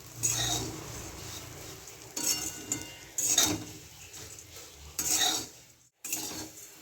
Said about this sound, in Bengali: মিডিয়াম গ্যাসে রেখে আমাকে নেড়েই যেতে হবে নালে তলাটা লেগে যাবে